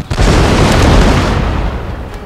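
A massed volley of matchlock gunfire from the Shogun 2 video game, set in the Sengoku Jidai period, bursts out as one loud booming crack and rolls off into a long rumbling decay.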